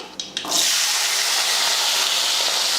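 Whole shallots and garlic cloves hit hot oil with a few quick clicks, then a loud, steady hiss of frying fills the rest, close and constant with no speech.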